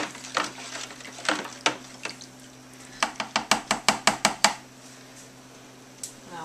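A spoon stirs homemade laundry detergent melting in a pot, scraping and clinking against the metal. A run of eight quick, evenly spaced knocks stands out near the middle, over a steady low hum.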